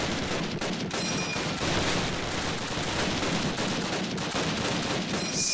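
Dense gunfire in Call of Duty, overlapping shots and fusillades crackling continuously at a loud, steady level with no pauses.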